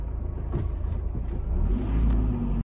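Engine of a 2008 Hyundai H1 nine-seat van running steadily at close range, a continuous low rumble with a slight rise in revs toward the end and no talk over it.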